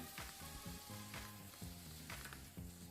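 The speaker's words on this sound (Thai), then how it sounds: "ผัดให้เข้ากันค่ะ" Minced pork stir-fried in a pan with chili, lemongrass and bottled pepper for a spicy southern Thai khua kling, sizzling steadily under music with a few scraping stirs.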